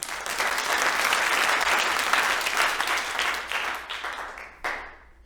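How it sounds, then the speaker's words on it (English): Audience applause at a comedy show, a full, steady wave of clapping that holds for several seconds, then thins into a few scattered claps and fades out. "Give a great big round of applause for Miss Ruth Bader Ginsburg."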